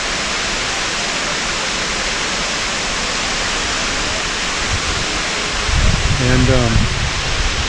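Brekkefossen waterfall in Flåm, Norway, heard from a clifftop as a steady, even rush of falling water, with a brief burst of wind noise and someone speaking near the end.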